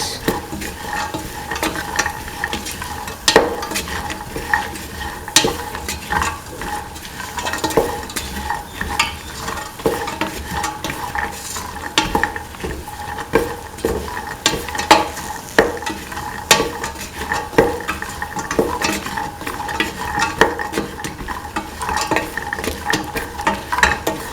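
Okra and chickpeas being stirred together in a pan, with continuous scraping and clinking of a utensil over a steady frying sizzle, repeated strokes throughout.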